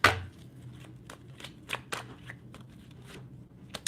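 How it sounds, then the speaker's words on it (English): Tarot cards being shuffled and drawn, a soft run of papery riffles and slaps with a few sharper snaps, close and quiet, heard without talk. "Let's pull one more string of cards here."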